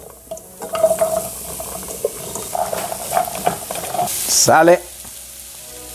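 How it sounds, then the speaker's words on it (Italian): Shallot and pumpkin fry in oil in a pan, a steady close sizzle with stirring scrapes while a person speaks over it, ending in a brief clatter. "un po' di olio in padella, dentro con lo scalogno,"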